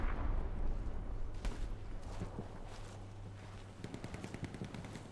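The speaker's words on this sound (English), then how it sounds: "There's a machine gun shooting at you, it sounds like." Machine gun fire in the World War II shooter Hell Let Loose, rapid bursts of rattling shots at a moderate distance, with heavier booms early on and a quicker string of reports toward the end, no talk.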